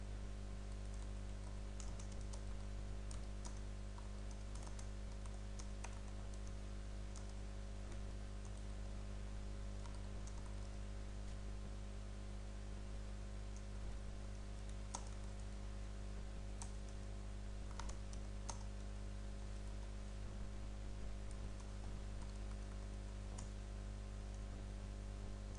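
Keystrokes on a computer keyboard as an SQL statement is entered, a steady run of light, irregular clicks over a constant low hum, with no talking.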